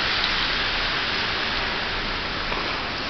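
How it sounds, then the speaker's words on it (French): Heavy rain with hail pouring down on Montreal streets and sidewalks, a dense, steady, close hiss of water with no gaps and no voices. "quand il pleut et qu'il y a une averse de pluie toute la journée avec de la grêle"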